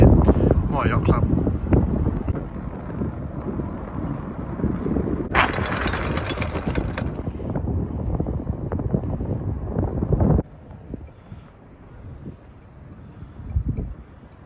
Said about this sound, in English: Wind's increasing